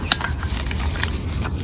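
A compact camping stove kit, with small gas bottles, an adapter and the stove, clinks and rattles as the metal pieces are packed into a pouch, giving a few light clanks close by and no voices.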